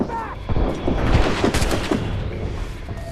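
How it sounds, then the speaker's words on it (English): Gunfire and cannon booms roar in a naval battle in the game Assassin's Creed Rogue, several loud blasts in quick succession with shouting voices mixed under the fire. "Ready to open a fire! They shot me! They're shooting back!"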